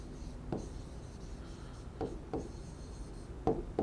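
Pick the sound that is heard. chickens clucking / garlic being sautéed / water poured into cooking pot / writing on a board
writing on a board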